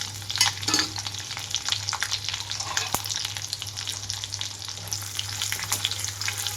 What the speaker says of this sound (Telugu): ఆయిల్ అంతా వేడయ్యాక ఎండుమిరపకాయలు అలాగే తాలింపు గింజలు వేసుకుంటున్నాను